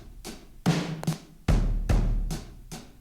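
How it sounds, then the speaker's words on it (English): Two layered sampled drum kits from Logic, including a modified Blue Ridge kit, play a steady beat with punchy kicks and crisp snare hits repeating in a regular groove. "I've layered two drum kits."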